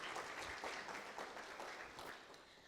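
Audience applause at the 10th Actuarial Society of Zimbabwe annual convention as the secretary returns to his seat, a steady, dense clapping from a seated crowd that fades slightly toward the end.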